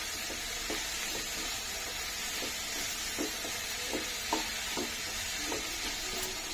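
Watermelon pickle ingredients sauté in a pan, with a steady dense sizzle and regular soft stirring taps from a spatula throughout, close and even in level.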